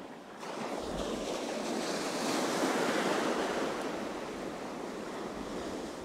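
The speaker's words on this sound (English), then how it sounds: "At least the waves aren't too big today." Ocean waves break on a fishing beach under a strong offshore wind, a loud, continuous wash of surf that swells to a peak and slowly eases, close by, with no voices.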